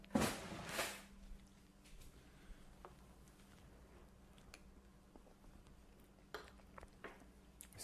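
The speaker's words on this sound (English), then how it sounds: "Never remember where the spoons are." Kitchen cutlery being rummaged through in search of spoons, a loud clatter of metal at the start followed by faint scattered clinks and taps against a steady low hum.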